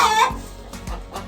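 Chickens in a chicken run give a short loud squawk followed by a few low clucks, close by and with no voices.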